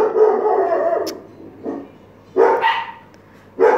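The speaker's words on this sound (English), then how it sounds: "Oh, shush, dog." A dog barks in loud, separate bursts: a sustained howling bark at the start, then a shorter yelp, and two more sharp barks spaced apart, with quiet gaps in between and no talk.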